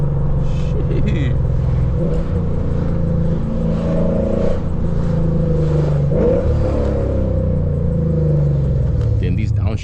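A tuned Lexus RC F running on E85 rumbles up close, its revs dropping and rising through a few quick downshifts, with a steady droning tone underneath.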